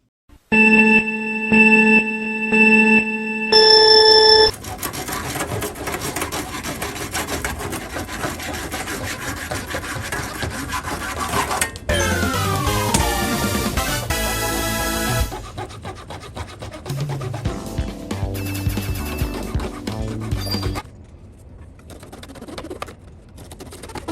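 After a few sustained tones, the saw-back teeth of an AK bayonet rasp back and forth through wood in a steady, scratchy rhythm, loud and close, pausing near the end.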